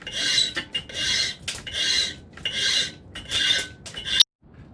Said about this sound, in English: Give her a little sharpen on that side and it makes him nice and pointy.